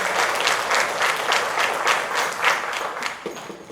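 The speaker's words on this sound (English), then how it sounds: "we're going to do a round of applause for that too" Audience applause at the Miss Phenix City pageant, a dense, steady roar of many hands clapping that holds for several seconds and tapers slightly at the end, with no talking over it.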